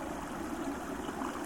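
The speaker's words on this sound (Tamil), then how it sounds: "இதோ புகைக்குள்ளேருந்து வந்துட்டு இருக்குங்க தண்ணி." Steady broadband rush of flowing stream water, continuous and fairly even, with no voices and no breaks.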